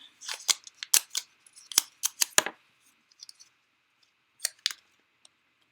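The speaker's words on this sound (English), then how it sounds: "And I am going to cut that out of my card, or this little panel here of my card." Scissors cutting a small panel out of a handmade card, a run of crisp close snips in quick clusters, then a pause and a few last cuts, with no talk.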